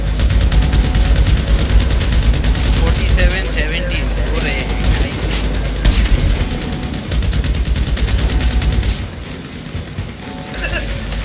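Dense gunfire from a GTA V Online team deathmatch: rapid bursts and crashing shots pile up almost without pause across the whole stretch, loud and close, with players' voices talking over the battle.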